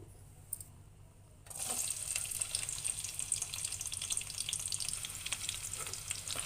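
Onions frying in a pan for pond fish curry, a quiet moment then a steady close sizzle that continues evenly to the end.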